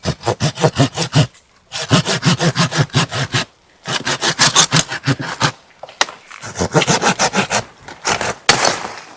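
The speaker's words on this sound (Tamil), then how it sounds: "இந்த கிளையை வந்து நம்ம அறுத்து விட்டுலாம் சார்" A hand saw cuts through a mahogany tree branch during pruning, in rapid rhythmic back-and-forth rasping strokes, loud and close, with bursts of strokes separated by brief pauses.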